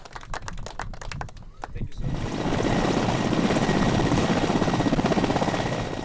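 A helicopter thunders close by, its rotor a loud, steady pulsing roar that swells and holds after a few seconds of scattered tapping and clatter.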